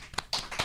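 A handful of sharp, separate claps sound close by in a broadcast studio, three or four quick hits in quick succession.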